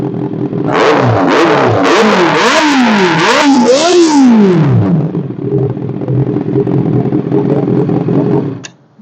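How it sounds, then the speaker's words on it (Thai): A 2019 Honda CBR650R sport motorcycle is revved hard several times in quick succession close by, its exhaust rising and falling in sharp blips before settling back to a loud, steady idle. "เสียงท่อดูดุเลยนะครับ"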